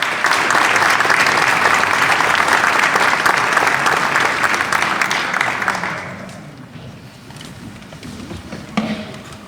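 A large audience applauds at an 80th anniversary celebration of a Finnish pesäpallo club, with dense, loud, sustained clapping for about six seconds that then thins out to scattered claps and faint room noise.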